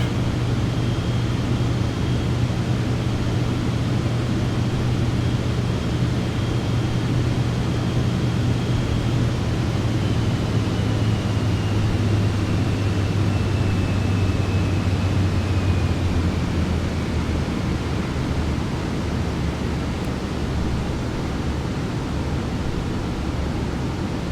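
An airplane in Microsoft Flight Simulator 2024 drones continuously in flight, a steady broad roar with a low engine hum that fades partway through.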